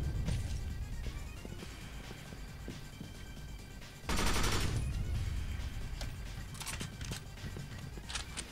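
Gunfire rattles through a battle in the shooter game Binary Domain, quiet bursts of rapid shots and impacts with a loud blast of fire near the middle, then scattered shots continuing.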